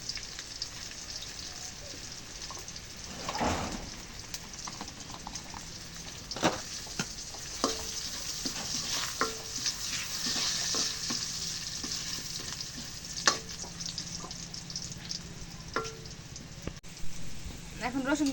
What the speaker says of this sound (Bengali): এখন রসুন পেঁয়াজ ভাজা হয়ে গেছে